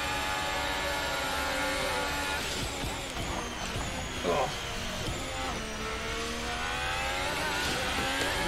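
A Formula 1 car in F1 2020 at Zandvoort accelerates hard, its high engine whine climbing through gear changes and up-shifts, with someone talking over the engine noise.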